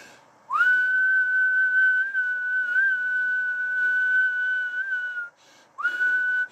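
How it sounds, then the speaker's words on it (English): A person whistles into a radio microphone over an FT-757GX transceiver on 40 metres, one long steady rising tone held for several seconds, then a short second whistle, clear and close. "I'll have to give you a whistle, so watch your ear holes"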